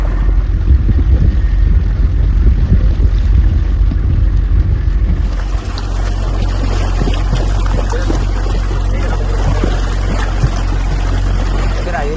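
A boat motors along a backwater route, its engine droning steadily while wind buffets the microphone, first in strong gusts and then as a smoother rush of water and air.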